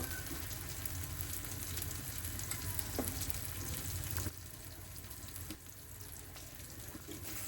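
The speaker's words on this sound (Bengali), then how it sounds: "সব দিয়ে দিলাম এখন তো ভালোভাবে নাড়াচাড়া করবো" Ground spices with chopped tomato, salt, turmeric, chilli, coriander and cumin sizzling steadily in a pan, a close continuous hiss with a brief stirring scrape.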